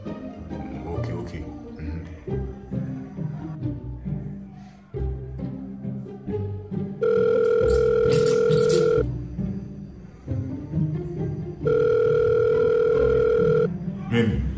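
Telephone tones sound twice as long steady electronic beeps, each lasting about two seconds, amid overlapping conversation and background chatter from a phone call setting.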